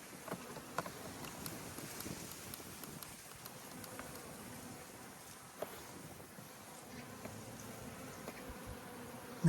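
Honeybees buzz faintly around a hive in a steady, diffuse hum, with no voices.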